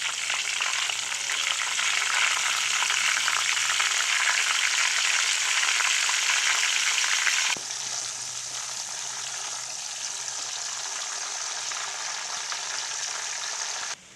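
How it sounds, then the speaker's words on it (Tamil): Sliced Nendran banana chips deep-frying in a pan as salt-turmeric water is poured in, a loud dense hiss that drops suddenly to a quieter, steadier bubbling sizzle midway and holds; no voices. "இப்போ நம்ம உப்பும் மஞ்சளும் கலந்து வச்சுக்கிற தண்ணியை இந்த ஜிப்ஸில் ஊற்றிக்கலாம்."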